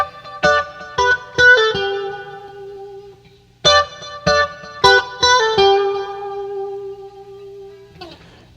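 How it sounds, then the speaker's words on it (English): Clean electric guitar playing chords and single notes in a song, with the delay echoes timed to the tempo so repeats fall on the beat; strummed bursts ring out and decay, loud and close, with no talking. "I want to time that delay with the tempo of the song."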